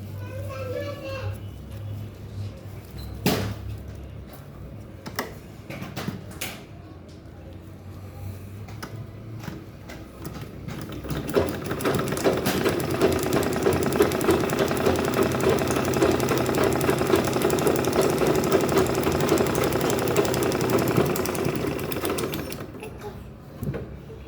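Sewing machine stitching a fabric shopping bag, a steady buzzing run of stitches in the second half, preceded by short bursts and handling noise, with a voice speaking between them.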